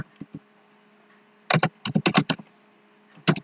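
Computer keyboard typing on a desktop: a few light taps, then a quick burst of close keystrokes in an uneven rhythm, followed by a short pause and two final clicks, heard alone without talking.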